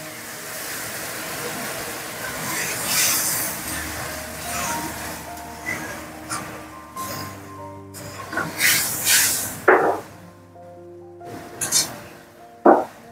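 Lata fish gravy boiling in a pan gives a soft, continuous hiss and simmer with occasional clinks, close by, while a person talks over it.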